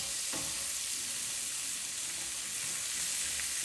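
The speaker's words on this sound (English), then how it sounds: "stir that around with the bacon" Onion fries with bacon in a pan, a dense, steady sizzle with soft stirring scrapes and a brief clack of the utensil near the start.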